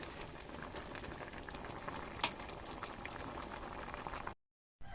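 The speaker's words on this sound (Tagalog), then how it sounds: "Ito na nga po, kulong-kulo na siya." Shrimp cooking in a pot of water at a hard rolling boil, a steady close bubbling churn with one brief sharp tick midway before the sound cuts out near the end.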